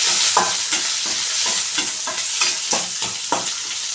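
Ridge gourd curry with onion, curry leaves and green chillies is stirred in a hot pan. A spoon scrapes in a steady rhythm over a constant loud sizzle.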